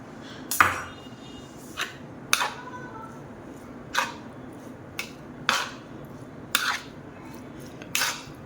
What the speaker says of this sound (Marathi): आणि छानपैकी मिक्स करून घेणार आहोत